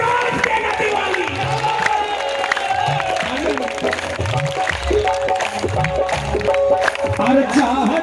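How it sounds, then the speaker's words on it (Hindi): An audience at a live bhajan devotional concert claps and cheers, a dense, continuous crowd roar with shouts mixed in and a voice over it. "एक बार तालियां सुनाओ ना चंदौसी वाली, यूपी वाली"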